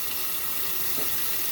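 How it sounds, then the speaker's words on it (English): Water runs steadily from a tap into a sink during shaving prep with Van Der Hagen shave soap, a continuous hiss that stays even and close throughout with no talking. "I need some more water here."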